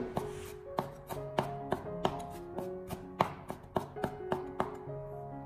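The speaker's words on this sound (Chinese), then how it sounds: "再准备一块生姜，先给它用力的拍一下，然后再将它改刀切成姜末。" A kitchen knife chops a piece of fresh ginger into fine mince on a cutting board, about a dozen sharp, evenly spaced chops ringing out clearly with nothing else heard.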